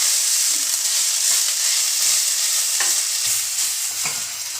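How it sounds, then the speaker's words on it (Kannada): Ginger garlic paste is stirred and fried in a pan for Punjabi chole masala: a steady close sizzle with several distinct scraping stirs, clear and alone with no talk. "ಶುಂಠಿ ಬೆಳ್ಳುಳ್ಳಿ ಪೇಸ್ಟ್ನ ಹಸಿ ವಾಸನೆ ಹೋಗುವವರೆಗೆ ಇದನ್ನು ಮಿಕ್ಸ್ ಮಾಡುತ್ತಿರಬೇಕು."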